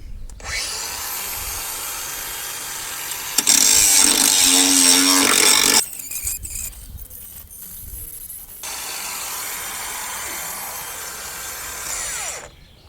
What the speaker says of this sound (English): So I'll just grind it down now.